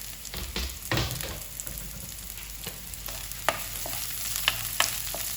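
Onion, garlic and bay leaves sauté in a hot pan, a steady close sizzle broken by several scraping stirs and light clicks of the spoon against the pan.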